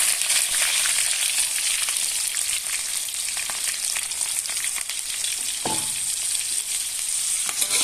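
Onion, garlic and chili fry in hot oil with a loud, dense, unbroken hiss and crackle, up close. Occasional stirring scrapes and a single sharp clink partway through sit under it.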